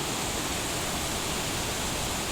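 A rain-swollen freshwater river near Zinzuda village, Morbi, Gujarat, rushing in full flow, a dense, constant roar of water that fills the whole stretch with no break and no voices.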